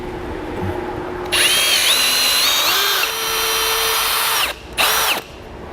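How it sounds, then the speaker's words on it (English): A power drill with a long bit bores through the frame of a 2015 Chevrolet into a wood block behind it, whining loudly in two sustained runs with a short pause between, close and without talk. "Now I'll take a longer drill bit in order to drill through to the other side"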